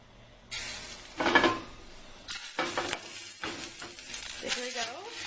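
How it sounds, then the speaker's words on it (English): Salmon laid skin side down in hot olive oil bursts into a loud, close sizzle that keeps crackling and popping in the pan, with a brief voice near the end. "Now I'm supposed to add the salmon, skin side down."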